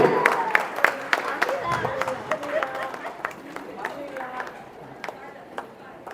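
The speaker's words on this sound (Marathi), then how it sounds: "जरा जोर टाळ्या होऊ दे." Scattered hand clapping from a gathered crowd at a first birthday celebration, light and uneven, running beneath someone talking over a microphone.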